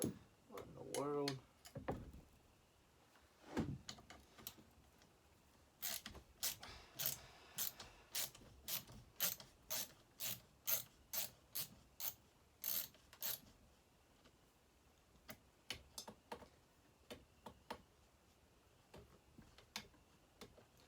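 A tight nut is loosened on a Partner S65 saw, giving a long run of sharp, evenly spaced ratcheting clicks, close and crisp, with brief talk near the start.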